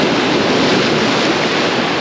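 Waves break and wash against a rocky shoreline, a loud, continuous roar of surf with wind buffeting the microphone throughout and no talking.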